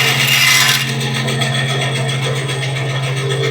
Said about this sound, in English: Now let's take it over to the bandsaw.